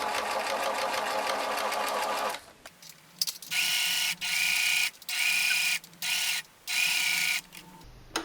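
Sewing machine stitching fabric for a face mask, a fast continuous whirring run that stops, then several short bursts of rapid mechanical stitching separated by brief pauses.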